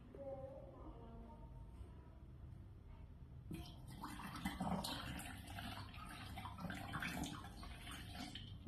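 Water is poured out and splashes steadily near the microphone for about five seconds, following a few quieter seconds with a faint voice in the background.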